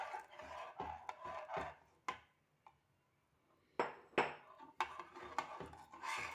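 A spoon stirs milk powder slurry into rice kheer in a pot, giving bursts of close scraping and clinking strokes, a quiet pause in the middle, then more brisk stirring.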